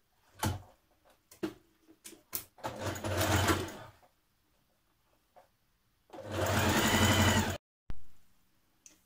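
Sewing machine stitching a continuous lap in place on a shirt dress: short stop-start bursts and clicks, then a longer steady run of motor whir, close and alone.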